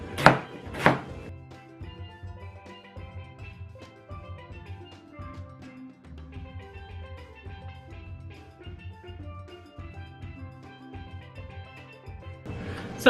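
Knife chopping onions on a cutting board during home cooking, a steady run of close, crisp cuts repeating for several seconds with a couple of louder knocks at the start and end, no one talking.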